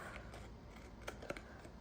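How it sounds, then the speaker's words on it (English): Quiet snipping of scissors through paper, a few soft crisp cuts close by against a faint background hiss. "I have this regular scissors where I cut the overhanging off"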